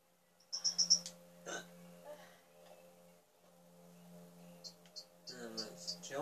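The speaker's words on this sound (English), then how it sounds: "These hiccups, though." Hiccups from a character in the horror game Until Dawn, a few short sharp hiccup bursts near the start and again toward the end, over a low steady hum with faint sounds between them.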